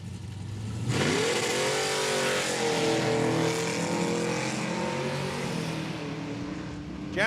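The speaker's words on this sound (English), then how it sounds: "Right-hand lane, Clayton Pike out of Winnipeg, 77 Chevy Corvette" A 1982 Camaro and a 1977 Chevy Corvette drag racing at Saskatchewan International Raceway: loud, sustained V8 engine roar rising in pitch as the cars launch and accelerate, steady and close for several seconds.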